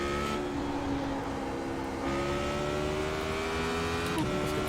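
A Radical SR8 race car drones at high revs around Spa-Francorchamps in iRacing, its engine note holding steady with small pitch shifts and a brief dip near the end, loud and continuous.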